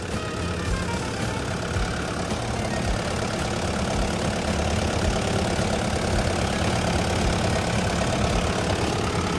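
A wheel loader's Kubota V3300 diesel engine idles loudly and steadily nearby, a constant low rumble with a slight knocking texture throughout.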